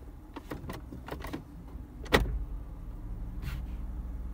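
Shift lever of a CVT-transmission car moved out of Park, giving a sharp mechanical clunk midway after a series of soft clicks, close and fairly loud against a low, steady cabin hum.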